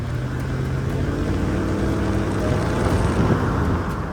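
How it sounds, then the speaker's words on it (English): Land Rover LR4 engine running in a steady, dense idle with a slight rise in revs toward the end, loud and continuous with no voices. "as I sat at idle and gave it a few more revs getting it up to temperature"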